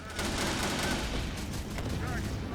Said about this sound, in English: Just all the gunfire.